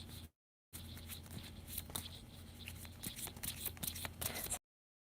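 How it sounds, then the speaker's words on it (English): Tarot cards being shuffled by hand in a steady, close run of soft riffling and sliding scrapes, with brief silent gaps at the start and end. "Let's keep shuffling."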